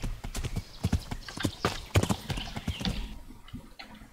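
Horse hooves clip-clopping in a quick irregular rhythm while riding in Kingdom Come: Deliverance, close and prominent, with a brief whinny-like tone and the trotting easing off toward the end.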